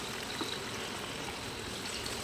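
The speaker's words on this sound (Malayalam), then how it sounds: "നമ്മളിപ്പോൾ ഏകദേശം ഒരു 7-8 കിലോ ചിക്കനാണ് ഇതിനകത്തേക്ക് ഇടുന്നത്" Roughly 7–8 kg of chicken goes into a large pot of hot masala and oil for Gudalur-style biryani, making a faint, continuous sizzling hiss with a few soft bumps and no voices.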